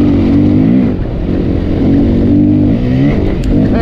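A 2023 Beta 430 Race Edition dirt bike engine revs loud and close, its pitch climbing and falling in several surges during a ride.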